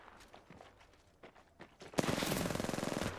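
Apex Legends gunfire: faint scattered single shots and footsteps give way to a loud, rapid, evenly spaced burst of fire that runs on to the end.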